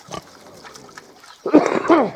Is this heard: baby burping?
no